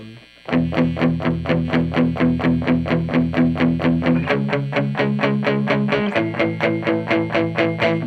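Tight palm-muted electric guitar chugging steady sixteenth notes with heavy distortion, shifting pitch partway through, loud and continuous with no talking.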